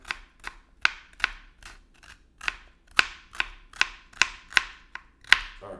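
Knife chopping a vegetable stalk on a cutting board for tuna salad, about fifteen crisp, evenly spaced cuts at a steady moderate pace, close and clear with no talk.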